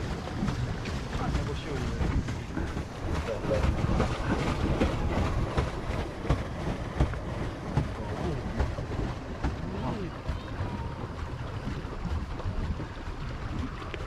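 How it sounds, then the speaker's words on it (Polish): Two 100-horsepower boat engines drone steadily with a rough low rumble, mixed with wind and water noise, while people talk intermittently over it, off Orebić, Croatia. "Czyli silniki mamy tak jak wczoraj na katamaranie. Po 100 koni każdy."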